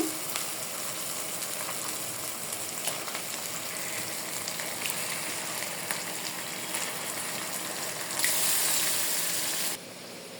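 Goat liver pieces frying in a thick spiced masala for kolija bhuna, a steady close sizzle that swells briefly louder near the end before settling back.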